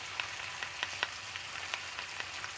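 Pork, peanuts and garlic sizzle and crackle in a hot pan while being stir-fried, a soft steady hiss broken by small scattered pops and clinks, close and without talking.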